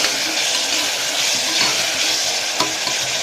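Tomatoes sautéing in a pan for chana biryani, a loud steady close sizzle with bright frying crackle and a few light stirring knocks, no talk.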